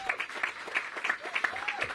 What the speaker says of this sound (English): So another round of applause for Todd Lee.